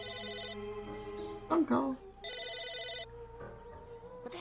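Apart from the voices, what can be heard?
phone ringing in the video game Psychonauts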